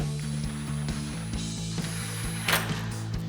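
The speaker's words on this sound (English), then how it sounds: "We'll loosely get those in place with our 6mm Allen socket." Ratchet driving a 6mm Allen socket on aluminum roof rack bolts of a Jeep Wrangler JK, with quick close clicking in a steady rhythm, no talking.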